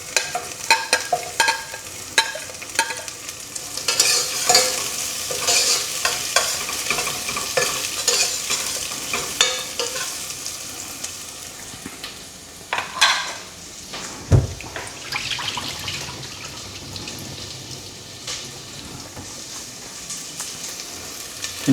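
Onion and garlic sautéing in a pan for chicken adobo, a loud close sizzle with frequent scraping stirs and metal clinks, easing off in the second half after a sharp knock, with no one talking.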